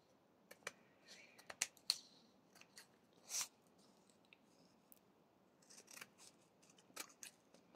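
Scissors cutting paper for a scrapbooking project, a series of quiet, close snips and crisp clicks spread irregularly across a calm room.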